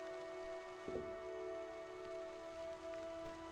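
Rain falls in the video game Pine: A Story of Loss, a steady, fairly quiet wash of drops under a sustained tonal music drone, with one slightly louder patter near the start.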